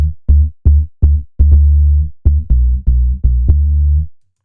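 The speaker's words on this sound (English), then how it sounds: "I dragged out a dancehall sort of bass loop" A deep, punchy bass line loops in a syncopated dancehall rhythm, short booming notes repeating and then stopping, with no voices.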